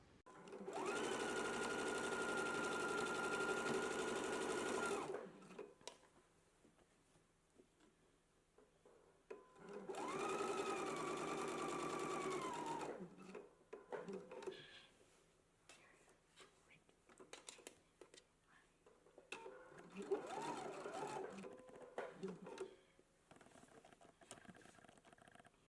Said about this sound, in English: We're going to stitch all the way up close to the raw edge or your folded edge or your folded pressed edge, pivot across, and then stitch down to the other side.